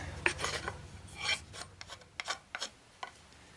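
Short, dry scraping strokes rasp across the wooden handle of a Cold Steel Frontier Hawk being refinished, coming in uneven bursts with brief pauses, close up and quiet with no talking.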